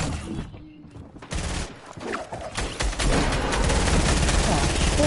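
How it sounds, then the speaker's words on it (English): Rapid gunfire in a shooter game, growing into a loud, steady barrage of shots that hit the player, with background voices underneath. "Who the fuck shot me?"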